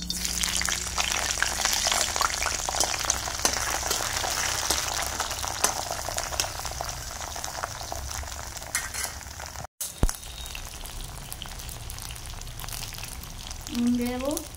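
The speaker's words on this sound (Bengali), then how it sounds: "এখন বেগুনগুলো সব দিয়ে দেবো তেলের মধ্যে।" Young eggplants sizzle in hot mustard oil with a dense, steady crackle close at hand, a few stirring clatters, and a short voice near the end.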